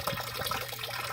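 Water runs continuously into a residential drywell holding about a foot and a half of water, a steady soft rushing and gurgling flow without pause.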